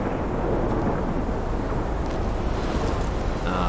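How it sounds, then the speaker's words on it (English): Storm noise from the Life is Strange video game fills the scene, a steady, loud wash of wind and low thunder rumble with no breaks and no talking. "Oh shit, that's a big storm."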